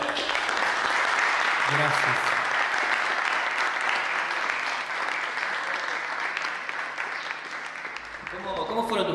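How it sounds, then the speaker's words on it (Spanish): A studio audience for an acoustic music talk show gives dense, sustained applause to a guest musician, steady and loud throughout, with a brief spoken thanks near the end. "Por favor, fuerte el aplauso para él."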